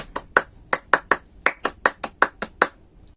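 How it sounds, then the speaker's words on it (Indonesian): A group performs the rhythmic Indonesian scout clap, about a dozen sharp, close hand claps in an uneven patterned rhythm, with no talking over them. "kita tepuk pramuka dulu yuk"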